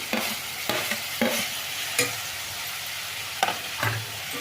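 Tomato fries with onion, radish and garlic in a pan, a steady sizzle broken by several sharp scrapes and knocks from a stirring spoon, close and loud with no voices.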